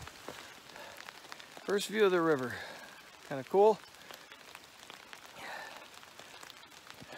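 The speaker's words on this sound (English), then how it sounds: "if you can hear and obviously see, it is raining" Rain falling steadily along a trail by the Manistee River, a soft, continuous patter under a man's brief speech.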